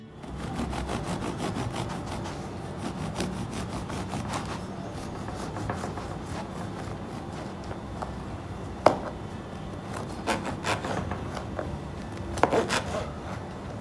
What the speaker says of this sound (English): use a serrated knife to slice it